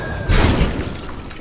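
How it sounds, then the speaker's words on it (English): A cannon boom sound effect: one sudden, heavy blast that opens loud and then rolls off into a slowly fading rumble, with no other sounds. "Give me the cannon."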